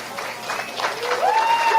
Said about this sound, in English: Applause break already.